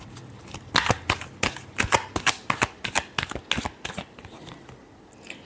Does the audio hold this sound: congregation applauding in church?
no